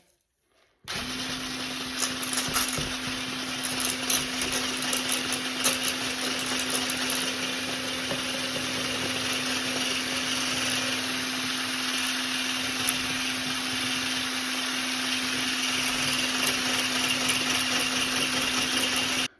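An electric mixer beating eggs while sugar is gradually added, starting abruptly after a brief silence and then holding a loud, steady whirring motor drone with a constant hum for the rest of the time.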